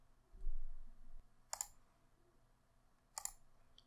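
Two crisp computer mouse clicks sound a second and a half apart, close and isolated against a quiet room.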